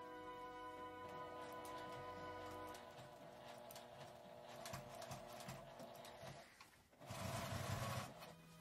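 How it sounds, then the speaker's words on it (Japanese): A domestic sewing machine edge-stitches along the top of a lined zipper pouch, running slowly over the thick seam in a long continuous whir, with a faint quiet pause before a louder final burst. "上端に端ミシンをかけます。"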